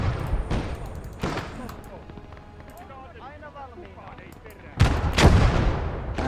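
Heavy booming artillery and gunfire in a war video game set on a snowy battlefield. Several loud blasts come early, a quieter stretch of scattered fire follows, then a cluster of big explosions lands near the end.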